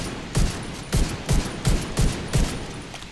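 Gunfire in Far Cry Primal comes in six evenly spaced bursts, each a sharp thumping crack with a short tail, repeating about every half second with no talking.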